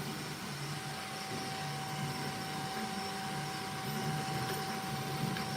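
Creality K1 3D printer running a Benchy print at 210 degrees: a faint, continuous mechanical whir with a steady high tone and soft, busy stepper-motor chatter underneath.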